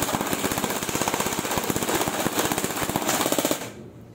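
An SR25 airsoft rifle fires a long full-auto burst, a rapid, even mechanical clatter close and loud for about three and a half seconds before stopping abruptly.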